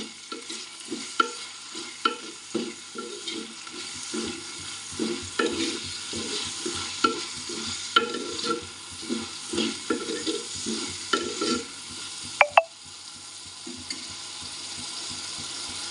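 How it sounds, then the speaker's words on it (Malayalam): Two chopped tomatoes frying in a pan for a curd curry, a steady sizzle under a regular rhythm of spatula scrapes and stirs, with a louder clank near the end. "ഇതുപോലെ കട്ട് ചെയ്ത് വെച്ചിരിക്കുന്ന തക്കാളി കൂടി ചേർത്ത് കൊടുക്കാം ഞാനിവിടെ രണ്ട് തക്കാളിയാണ് എടുത്തിട്ടുള്ളത് എന്നിട്ടൊന്ന് വഴറ്റിയെടുക്കാം"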